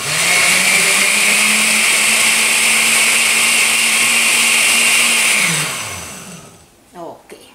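A blender whirs steadily at high speed, puréeing a red bell pepper sauce with a little water, a loud, continuous motor drone for about five seconds before it winds down and stops, leaving quiet clicks at the end.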